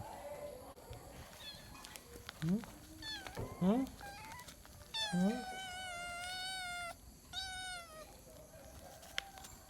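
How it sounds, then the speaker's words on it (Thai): An orange kitten meows repeatedly, high and insistent, with several drawn-out cries close to the listener amid light background noise. "ร้องเมี้ยวเมี้ยว"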